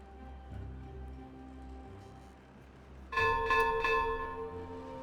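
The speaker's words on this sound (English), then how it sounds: "Double bell ringing, letting them know it's the end of the workday." Timberborn's end-of-workday signal: a double bell chime rings out clearly over a quiet game backdrop, bright tonal strikes with lingering overtones in the second half of the clip.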